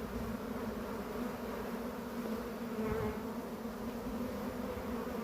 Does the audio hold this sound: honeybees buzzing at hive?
yes